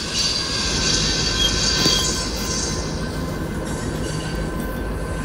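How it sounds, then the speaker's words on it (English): A big 100-car video game train with three engines in front rumbles steadily along, with a constant low roar of rolling wheels and a faint high metallic whine above it, with no pauses. "This train is like really big."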